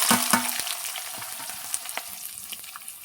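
Whole spices and chopped onions fry in hot oil with a steady close sizzle, broken by scattered clicks and scrapes of stirring, with no voices.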